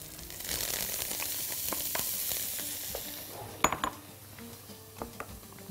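Coriander fries in ghee in a pot of taro and meat stew, giving a steady soft sizzle with scattered clinks and a few sharp scrapes of a spoon against the pan, close and without talk.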